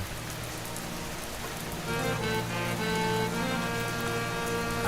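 Rain pouring down during a storm. A dense, steady hiss of falling water fills the whole stretch, growing a little louder after the first couple of seconds, with no voices.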